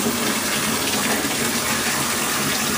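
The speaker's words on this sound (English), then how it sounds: "taking a little bit of time to fill up the tub" Bathtub filling from the tap, a steady broadband rush of running water pouring into the tub, loud and continuous throughout with no voices.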